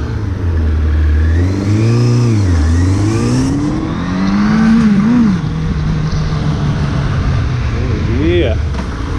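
A Suzuki Bandit 600 motorcycle engine revs and accelerates from close range, its pitch rising and falling through the gear changes under heavy wind rumble. The engine drone stays steady toward the end.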